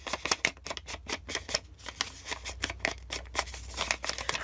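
Scissors snip repeatedly through a paper tag for a handmade journal, a steady close series of sharp crisp cuts and rustles.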